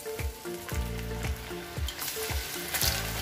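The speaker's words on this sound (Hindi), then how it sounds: "ये देखिए मैंने इसमें तेल में डाला, तो ये थोड़ा सा इसमें स्प्रिंग होने लगा, फटने लगा" Corn kernels frying in hot oil over a low gas flame for crispy corn, with a steady sizzle broken by a run of sharp, regular pops, loud and close, with no talking.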